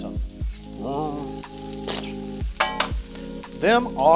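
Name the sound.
onions sizzling on a Blackstone griddle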